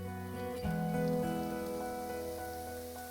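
Leeks sauté in a pan, a soft continuous sizzle and crackle like light rain that swells briefly near the start and then settles, heard alone without talking.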